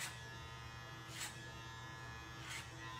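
Electric hair clippers cut hair over a comb on the top of a man's modern mullet, a steady close buzzing hum with two brief brighter swells as the blade passes through the hair.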